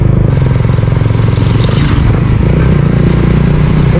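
A Raider 150 Fi motorcycle engine idles loud and close through a modified, dug-out stock exhaust pipe with a catalytic converter, giving a steady, throbbing, slightly rough rumble throughout.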